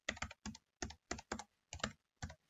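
Computer keyboard typed in quick bursts of clacking keystrokes, about seven short clusters in a row, close and clear with no talking over them.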